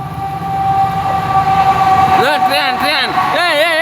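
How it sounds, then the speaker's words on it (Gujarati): A train passes near a dam area, its rumble building into a loud, wavering horn blast that rises and falls over the final seconds, with people talking. "train train"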